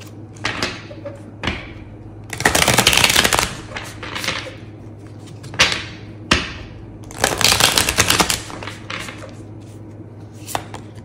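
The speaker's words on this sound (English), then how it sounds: "Do a good hard shuffle." Tarot cards shuffled hard in several loud, crisp riffling bursts, each lasting about a second, separated by softer taps and card handling, close up and with no talking.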